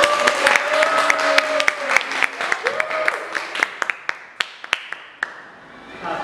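A small class at a vocational school claps for a classmate, sharp scattered handclaps over a voice that speaks at first, with the claps thinning out toward the end.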